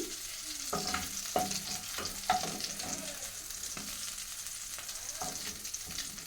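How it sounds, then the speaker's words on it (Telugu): Prawns frying in a pan with onions, green chillies and tomatoes, a steady close sizzle broken by several sharp scrapes and stirs of a utensil against the pan. "బాగా ఫ్రై అయినాయి రొయ్యలు ఉల్లిపాయలు పచ్చిమిరపకాయలు టమాటాలు"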